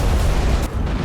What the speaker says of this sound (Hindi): यहां एक गैस स्टोरेज बेस को निशाना बनाया गया, जिसके बाद ज्वालामुखी जैसा विस्फोट हुआ।